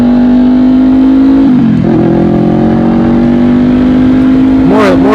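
A 2020 Honda CBR500R motorcycle engine while riding: a loud, steady close drone whose pitch dips and recovers as if shifting gear, with wind noise throughout.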